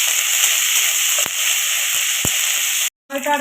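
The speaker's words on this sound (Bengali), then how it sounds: "আদা রসুন বাটা দিচ্ছি। এটাকে আমি ভালো করে একটু কষাবো।" Ginger garlic paste fries in a pan with a loud, close sizzle broken by a couple of sharp clicks, then a sudden brief cutoff before a short burst of different sound.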